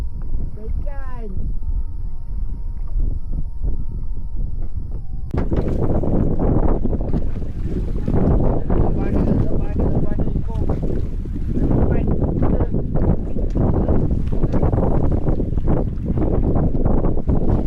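Outboard engine on a small fishing boat on a sea trip, a loud steady drone with heavy wind buffeting the microphone, voices talking over it.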